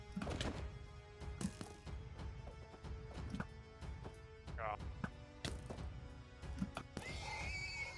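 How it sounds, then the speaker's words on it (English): Horses whinny and neigh during a Minecraft jousting match, sharp cries rising over clattering hoof and hit sounds, with game noise throughout and people talking over it. "Horse is down."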